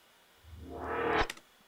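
A heavily reverbed sound swells and brightens for under a second, then stops dead with a sharp cutoff. A short, faint click-like tail follows in otherwise quiet surroundings.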